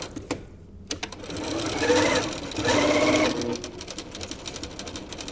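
A sewing machine runs in close, short bursts, stitching a quarter-inch seam along a folded fabric tube for a picnic bag, with a rapid needle rhythm speeding up and slowing between runs.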